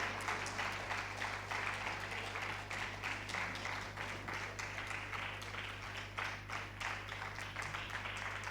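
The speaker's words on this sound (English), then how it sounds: "This applause is universal." Audience at a national migrant dialogue plenary session claps in a rhythmic, fairly quiet round of applause that carries on steadily over a constant low hum.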